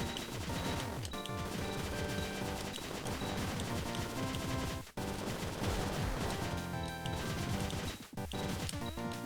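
Rapid machine gun fire from a video game's level 3 machine gun, loud and dense over busy game music, with brief drops around the five- and eight-second marks.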